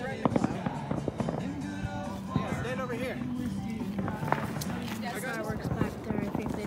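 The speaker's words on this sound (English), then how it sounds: "You're lighting another firework." Small backyard Fourth of July fireworks pop and crackle in scattered bursts nearby while several people talk and shout over them.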